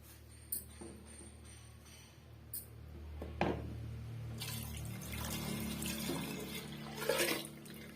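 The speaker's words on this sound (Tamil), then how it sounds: "இப்ப நம்ம வடிகட்டின தண்ணியை வந்து சேர்த்துடலாம்" Strained water poured into a pot of raw mango sambar: a soft, close pouring and splashing swells after a few small clinks and continues unevenly for several seconds at low volume, with no talking.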